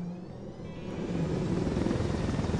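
Helicopter in the video game Ghost Recon Wildlands, a steady rotor and engine drone that swells slightly louder, continuous with no talk over it.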